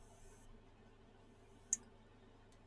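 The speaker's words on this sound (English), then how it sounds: "you just press it down in, and it'll snap back into place" A joystick part on a Knuckles controller snaps into place with one sharp, close click against a quiet room, followed by a fainter tick.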